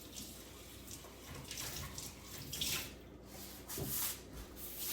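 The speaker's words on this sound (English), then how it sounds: "I'm just gonna rinse this out." Tap water runs steadily while something is rinsed out in a kitchen during gluten-free dinner meal prep, with a few splashes and clatters near the end.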